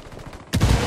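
Burst of gunfire in the video game Ghost Recon Wildlands, beginning abruptly partway through and continuing as a loud, dense, sustained volley after a quieter stretch of background game ambience.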